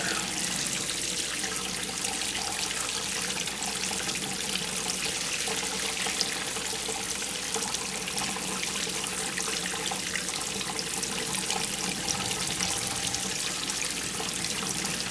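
Steady, heavy splashing of water poured continuously over a plastic field box to simulate heavy rain, loud and close throughout.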